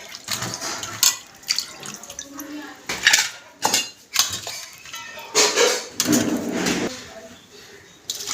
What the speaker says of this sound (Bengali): আমি আলু আর কাঁকরোলটাকে ধুয়ে নেব।